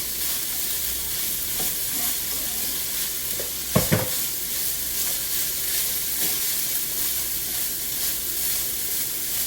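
Egg foo young ingredients are stirred in a frying pan over a constant hissing sizzle, with a few soft scrapes and a brief pair of louder knocks midway.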